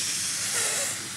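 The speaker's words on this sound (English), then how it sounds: "you can hear it sizzle" A steady broadband hiss of meat sizzling in a hot pan, loud and close, with no talking.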